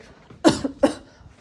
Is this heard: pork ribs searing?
no